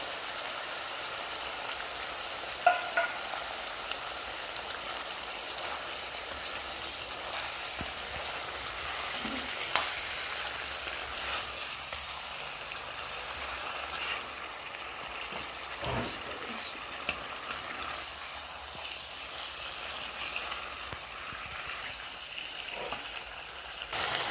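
Ginger garlic paste and two green chillies sizzle in a hot pan for a home-style local chicken curry, a steady close hiss and crackle with occasional sharper pops running throughout.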